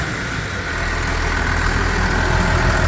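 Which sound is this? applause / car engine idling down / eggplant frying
car engine idling down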